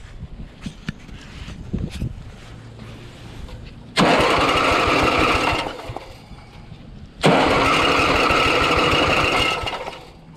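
A Troy-Bilt XP TB330 rear-wheel-drive lawn mower with a 7.75 Briggs engine, after a sheared-key repair, is pulled and catches twice, each time a loud, rough, close running roar lasting a few seconds after rattling pull clicks.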